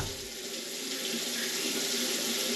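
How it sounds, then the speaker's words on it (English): Cold tap water runs steadily from a faucet into a sink for hand washing while cooking Thanksgiving dinner, a loud, close, continuous splashing hiss with no voices. "Now we got some cold water."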